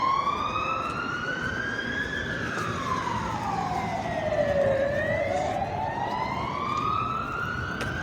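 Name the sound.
police car siren passing in Madrid street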